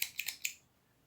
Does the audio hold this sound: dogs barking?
no